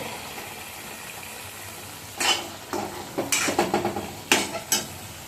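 Onions sizzle in a pan for a crab and egg curry while a spoon stirs and scrapes, clattering in quick bursts over a steady frying hiss.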